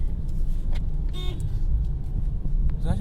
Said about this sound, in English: It's actually a pretty easy car to drive in the city.